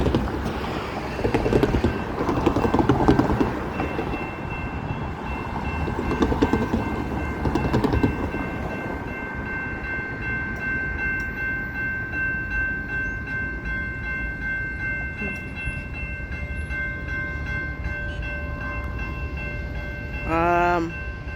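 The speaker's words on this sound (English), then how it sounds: "here comes the train" A CSX intermodal freight train rumbles past with rolling wheel noise and squealing tones, steady for a long stretch, ending with a short horn-like burst.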